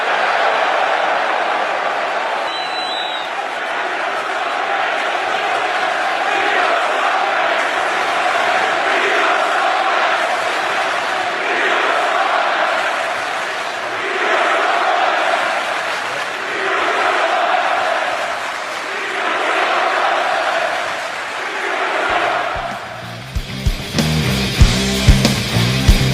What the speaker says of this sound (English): it's essentially the same unappreciative crowd full of scumbags from last night